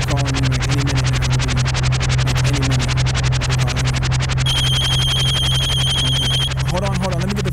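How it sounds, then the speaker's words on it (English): A phone ringing with a steady electronic tone, sounding for about two seconds over a continuous musical backing with a low bass hum. "Hold on, let me get the phone."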